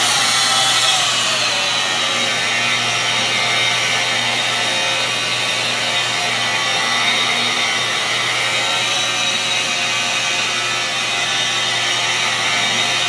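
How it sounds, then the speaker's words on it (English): A rotary buffer polisher runs at its slowest setting of 600 RPM, a steady, loud motor whine with a constant low hum that holds evenly throughout. "So this 600 RPM, that's as slow as this rotary buffer will die it down."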